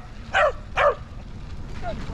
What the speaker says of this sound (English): Just telling that dog good boy for barking at me.